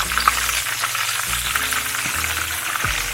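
Eggs sizzle and crackle in a hot pan for a Filipino breakfast, a constant close frying hiss with a few soft scrapes and clinks of a utensil, no talking.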